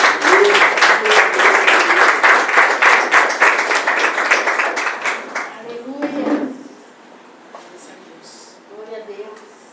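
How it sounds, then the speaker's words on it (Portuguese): A church congregation claps loudly and together for several seconds during a worship service. The applause fades and a voice speaks briefly over the last scattered claps. "e as palmas vão ao Senhor"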